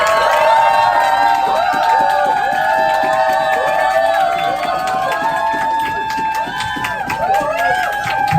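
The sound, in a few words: audience applause and cheering for the speaker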